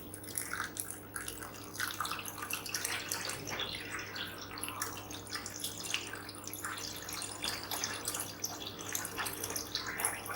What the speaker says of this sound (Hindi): मैं ठंडा पानी डालने लगा हूँ।